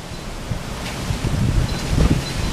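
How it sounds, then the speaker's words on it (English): Strong wind gusts buffet the microphone, producing a loud, rumbling roar that swells and surges over a couple of seconds. "It's so damn windy out here."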